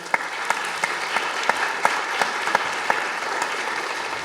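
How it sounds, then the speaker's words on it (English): Conference audience applause for a journalism panel, a steady patter of clapping from a small crowd with sharper individual claps standing out at regular intervals. "Please applaud them."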